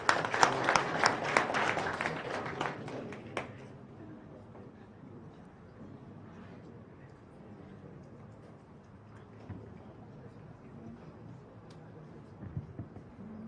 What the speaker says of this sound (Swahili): Makofi kwa chairman.